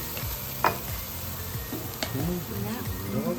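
Rendang mixture being stirred in a pan, with a soft scraping and gentle sizzle that rises in a few brief spoon strokes against a steady background hiss.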